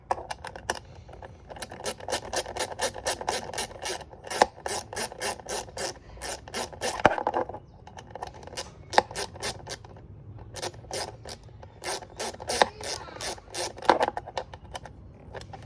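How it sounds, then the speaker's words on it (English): Quick ratcheting strokes of a wrench tightening bolts on the intake of an Acura RSX base, a steady run of close, crisp clicking bursts with brief pauses between sets, no talking. "Wrench, tighten these up."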